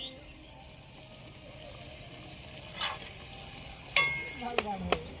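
Chopped onion with ginger and garlic paste frying in a pan for a taro and shrimp curry, a low steady sizzle that swells briefly, then several sharp scraping clinks of a spatula stirring near the end.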